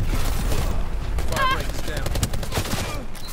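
Gunfire in Call of Duty Black Ops 4 multiplayer, with sniper rifle use, a loud burst of rapid overlapping shots and sharp cracks over a busy battle din, with a ringing tone in the middle.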